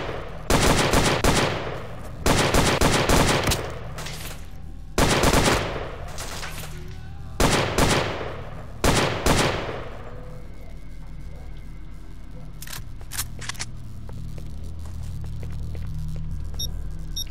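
Gunfire from a non-player character's weapon in the shooter game Stalker: Oblivion Lost, five loud bursts of several rapid shots each, spaced a second or two apart, followed by quieter ambient hum with a few faint distant cracks.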